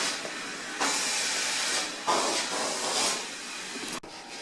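Roughly 1 3/4 cups of almonds tumble into hot toffee mixture cooked to 300 degrees with the heat switched off, giving a few surging bursts of steamy hissing and a sharp click near the end, with no talk.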